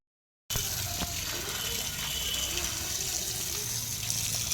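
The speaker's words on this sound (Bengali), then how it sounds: "এই যে চিকেন চিকেনগুলোকে ধুয়ে দিচ্ছি" Raw chicken pieces are rinsed under a running kitchen tap, a steady close gush of water that starts abruptly and splashes on without a break.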